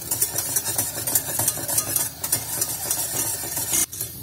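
Homemade toffee being stirred in a pan, a steady scraping and stirring with a soft sizzle underneath, close and continuous with no talking.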